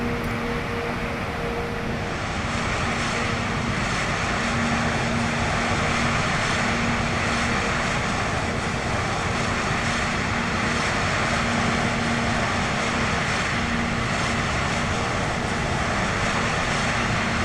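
A private plane's engine running steadily in Microsoft Flight Simulator 2020 on a Heathrow to Liverpool flight, a loud, constant propeller drone with an even hum throughout and no talk.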